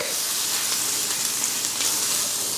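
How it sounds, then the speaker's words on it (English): Asparagus slices sizzle steadily in a hot frying pan, a close, even crackling hiss that holds without pause. "I'm going to be putting some little asparagus slices from our garden in this frying pan"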